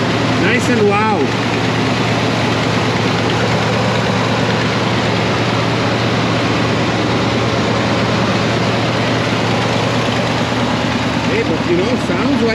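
A 1993 Chevy C/K 3500 dually pickup engine idles loud and close, a steady low rumble; a voice briefly speaks near the start and end.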